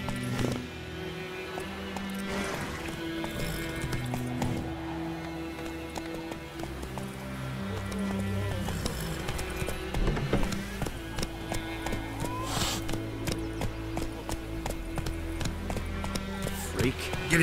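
Roach the horse gallops in The Witcher 3, rhythmic hoofbeats pounding steadily under a game soundtrack and voices, the thuds continuing throughout at moderate loudness.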